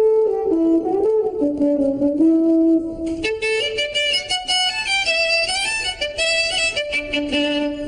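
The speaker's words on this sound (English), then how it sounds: "The French horn sounds like this." A melodic instrumental passage offered as a French horn example in a children's cartoon music game, with a sustained tune shifting to brighter, higher melodic lines midway, played loud and clear with no talking.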